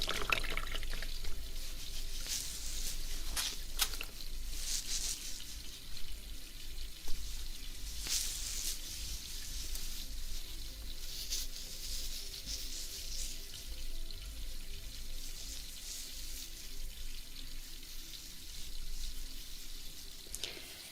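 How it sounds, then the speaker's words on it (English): Water rinsing hair at a salon sink during a hairdresser shampoo, a soft steady running-water wash with gentle splashing and trickling, faint and close throughout. "Alright, now rinse, rinse, rinse, rinse, rinse."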